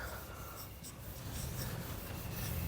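A pen scratches steadily across a surface while a math formula is written out, a faint, continuous scribbling with no voices.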